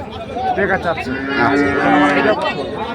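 Cattle bought from a market moo loudly and close by, long drawn-out calls running almost continuously, with crowd chatter mixed in.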